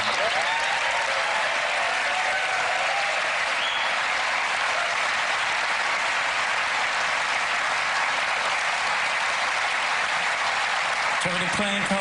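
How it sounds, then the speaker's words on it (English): Studio audience applause fills a game-show stage as a volunteer joins the magicians, steady, loud and sustained throughout with a faint voice near the end. "Please give Stacey a huge round of applause as she joins you on stage."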